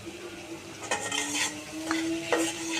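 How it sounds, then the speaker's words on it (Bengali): Tomatoes with ground coriander being stirred and sautéed in a pan, a spoon scraping and clinking against metal in a few distinct strokes over a steady low sizzle. "দিয়ে এখন ভালো করে কষিয়ে নিব।"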